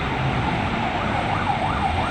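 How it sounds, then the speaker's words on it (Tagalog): An ambulance siren wails continuously in heavy road traffic, its rising and falling tone riding over dense engine and street noise, fairly close and loud. "ambulansya o oh"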